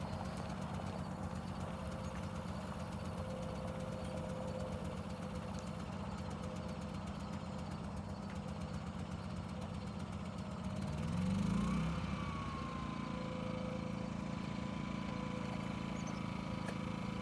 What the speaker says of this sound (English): Still had the generator on choke.